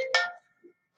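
A mobile phone gives one short electronic ring, a bright chime lasting a fraction of a second, then near silence with a faint blip.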